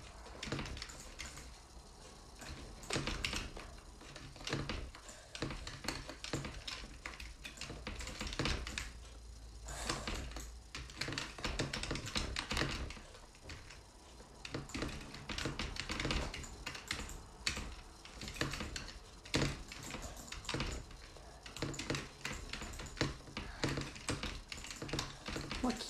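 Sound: typing on a computer keyboard

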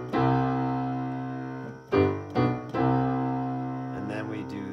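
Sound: chord progression played for Trading My Sorrows

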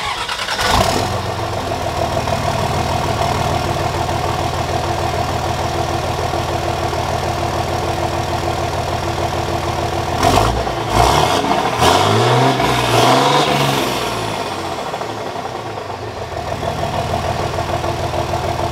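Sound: truck engine cold start, idling and revving

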